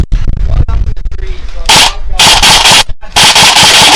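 Airsoft guns shooting heavy 0.3 g BBs during an outdoor capture-the-flag game, loud bursts of rapid shots in the second half, with shouting and talk between the volleys.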